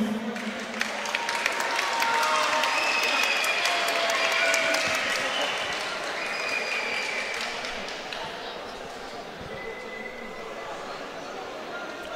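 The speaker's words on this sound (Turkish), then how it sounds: "Bu iki sporcuya ve Ferman Korkutan için güçlü bir alkış alabilir miyim?" Applause from the audience at a kickboxing event in Antalya for two athletes and the organiser, a broad crackling patter of clapping that swells over the first few seconds and then thins out, with a voice talking over it.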